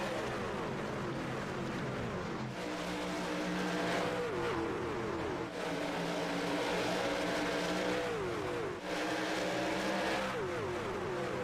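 A pack of racing pickup trucks accelerates down a long straightaway at Pocono, engines droning and revving steadily with repeated upshifts, loud and continuous with no talk.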